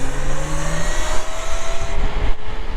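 Hardtail motorcycle with no suspension accelerating hard as the throttle is pushed, a steady loud engine drone with rising tones, continuous and close for the whole stretch.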